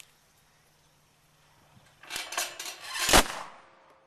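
An SKS rifle slam-firing, a quiet pause followed by a quick run of several sharp cracks and one louder final shot, heard from a moderate distance outdoors.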